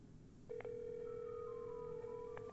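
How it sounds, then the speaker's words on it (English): A telephone rings through a call line: a steady electronic ring tone holds for about two seconds, with brief clicks at its start and end, fairly quiet and without talk. "Okay, you hear that phone ringing?"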